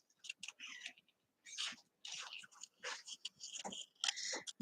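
Scissors snip through paper while trimming around a stamped pheasant image for a handmade card, giving a run of short crisp cuts with brief pauses, close and fairly quiet.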